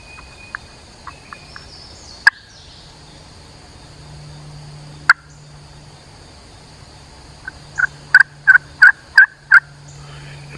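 Wild turkey gobblers in a Florida woodland answer a call, with a few scattered clicks early on and then a rapid series of five or six loud gobbles near the end, heard alone without talk.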